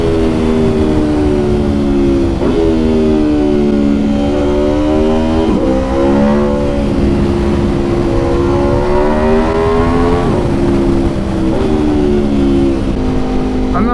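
An Aprilia RSV4 1100 Factory motorcycle engine revs loud and close for the whole stretch, its pitch climbing and dropping again in repeated rises, with no talk over it.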